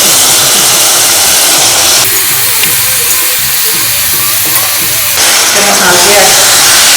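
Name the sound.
duck meat added to golden brown fried spices, sizzling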